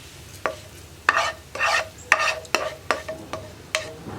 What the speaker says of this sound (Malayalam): ഞാൻ എന്താ കറിയിലേക്ക് വറവ് ചേർത്ത് കൊടുക്കുകയാണ്